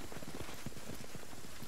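Steady rain in a fantasy game world, a dense continuous patter of drops with faint irregular taps throughout, moderate and even.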